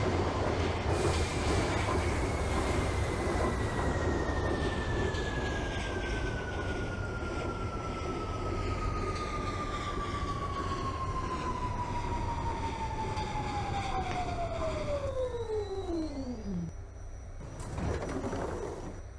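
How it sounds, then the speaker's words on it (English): A video-game R46 C subway train rumbles along as its electric motor whine slowly falls in pitch while it slows, ending with a brief squeal of brakes. "This is a World Trade Center bound C train."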